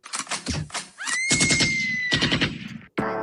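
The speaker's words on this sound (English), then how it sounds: "Gunshots in the first 5 seconds." Rapid bursts of gunfire-like cracks over a music track with a long sustained whistling tone, loud and busy, cutting off abruptly near the end.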